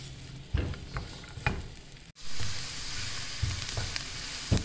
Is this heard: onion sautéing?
yes